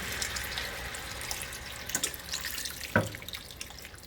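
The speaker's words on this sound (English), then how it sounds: "And we are going to add water." Water is poured into a pot holding chicken and vegetables, a soft running, splashing stream with a few brief drips and knocks, heard alone without talk.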